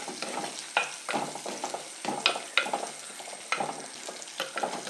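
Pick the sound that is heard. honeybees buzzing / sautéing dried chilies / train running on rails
sautéing dried chilies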